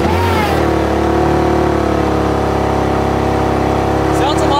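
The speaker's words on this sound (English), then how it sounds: "now for the cold start on the M Performance exhaust" A BMW with an M Performance exhaust cold-starts and holds a loud, steady, droning high idle throughout, with a brief starter burst at the very beginning.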